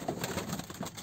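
Spotted play pigeons coo softly and repeatedly, low murmuring calls close by over a faint background hum.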